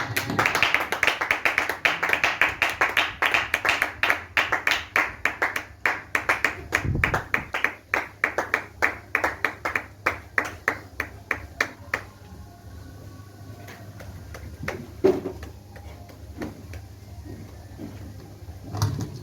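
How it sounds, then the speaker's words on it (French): A church congregation claps together in a long run of rhythmic, fairly loud hand claps that thin out and fade into scattered taps and a few voices after about twelve seconds. "On va donner une main d'acclamation."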